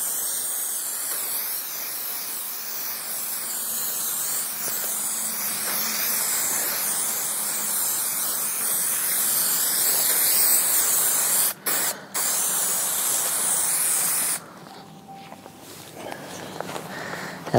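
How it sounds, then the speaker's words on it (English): Glue sprays onto a gaming table top in a long, loud, continuous hiss. Two brief breaks come near the end before the spray stops, leaving quiet shuffling. "now that that's been cut, we're going to put another coat of glue on the top"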